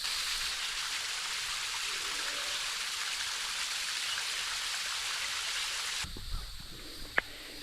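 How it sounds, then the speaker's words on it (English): A small waterfall on Cedar Creek Trail at Petit Jean State Park rushes in a steady broadband roar, close and continuous, then drops away abruptly near the end, leaving a quieter background with a couple of brief knocks. "How beautiful that little waterfall is."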